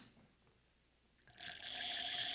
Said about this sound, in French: une petite bulle et un bruit de pétillement ici